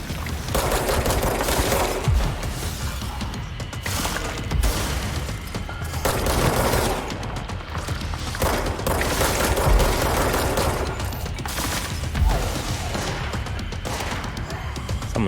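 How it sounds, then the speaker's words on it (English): Sustained gunfire and crashing impacts in the action game Control, a loud continuous barrage of shots and bangs with no pause throughout. "Someone's shooting now though, I think."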